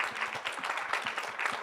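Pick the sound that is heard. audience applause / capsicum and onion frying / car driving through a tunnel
audience applause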